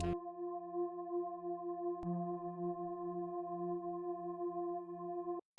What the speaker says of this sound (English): The first instrument I added was a pad, which goes like this.